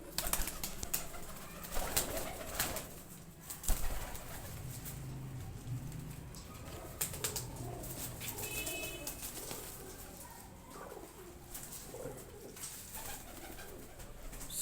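A flock of about thirty flying pigeons coos in low rolling calls, with brief bursts of wing flapping and scattered rustling, fairly close, over an outdoor background hum.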